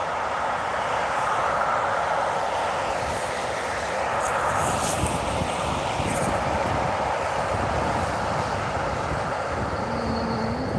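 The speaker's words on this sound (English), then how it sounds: "It's a long train." A long train rolls steadily past close by, a continuous loud rumble of rail cars with faint clatter and a brief high squeal toward the end, heard outdoors in a park.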